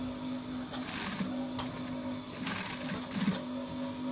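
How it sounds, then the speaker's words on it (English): A sewing machine stitches a notch collar onto a button-down shirt, its motor whirring in short bursts with faint rhythmic needle clatter, fairly quiet and heard alone. "then you continue your sewing"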